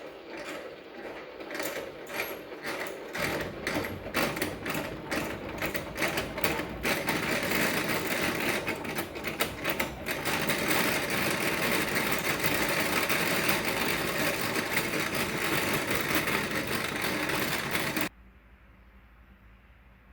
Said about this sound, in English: Both frames are in the spinner. Spinner is closed. And you just give it a spin.